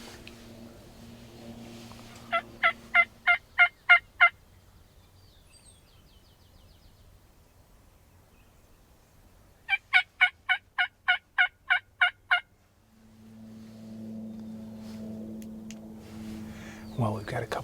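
Two bursts of rapid wild turkey gobbling, each a quick string of about eight rattling notes, come from a moderate distance outdoors between quiet stretches and low background rumble.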